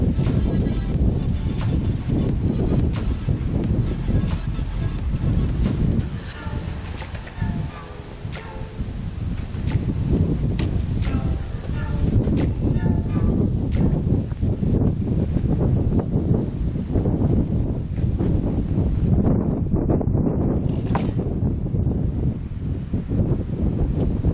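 Steady, loud wind buffeting the microphone throughout, with rustling gusts and no talking.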